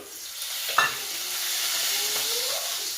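Onion frying in oil for a homemade onion chutney: a loud, continuous close sizzle and hiss with a single brief knock of a utensil near the start.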